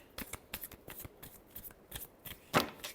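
Tarot cards are shuffled by hand in a series of quick, crisp riffling and slapping bursts. The sounds are close and fairly quiet, with a sharper flurry near the end and no voices.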